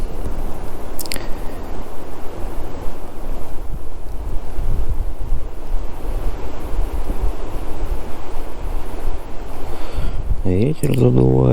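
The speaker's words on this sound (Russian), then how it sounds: "Ветер задувает." Strong wind buffets the microphone on a frozen lake during midwinter ice fishing, a steady heavy roar and rumble lasting throughout, with brief clicks and handling noise near the end.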